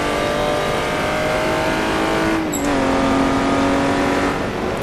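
Jaguar D-type race car on the Goodwood circuit, its engine droning steadily at high load from onboard, then dipping briefly as throttle lifts and pulling again, loud and continuous with no talk.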